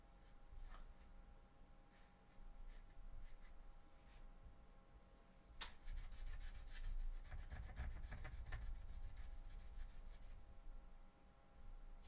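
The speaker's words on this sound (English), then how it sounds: "it's going to be hand sanding from now on and not using a Dremel" Hand sanding a Warhammer 40K Sisters of Battle thigh armour piece, faint close scratchy rubbing strokes that quicken into a denser rasping run in the second half.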